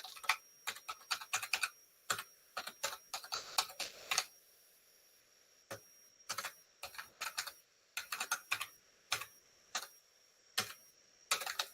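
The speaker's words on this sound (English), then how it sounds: "Okay, I'll write my email address." Someone types an email address on a computer keyboard in quick clustered bursts of close, crisp key clicks, separated by short pauses, with no talking.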